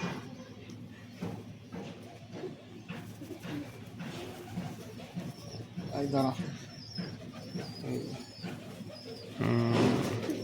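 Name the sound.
pigeons cooing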